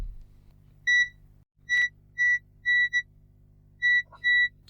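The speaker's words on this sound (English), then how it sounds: "Multimeter and continuity" A multimeter sounds short, high continuity beeps while probing a water-damaged Nintendo Switch Lite board, about six or seven separate tones at an uneven rhythm over a low electrical hum.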